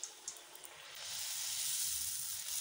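Fulki puris for pani puri dropped into hot oil, a few soft splashes then a steady, loud sizzling hiss that swells and holds as the dough puffs up.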